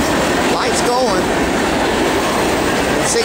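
A long CSX manifest freight train rolls past close by, a steady loud rumble and rattle of wagons with faint wheel squeal and clatter throughout.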